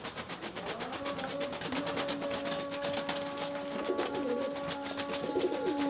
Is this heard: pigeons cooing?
yes